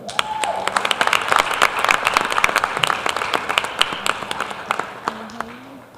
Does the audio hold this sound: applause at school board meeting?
yes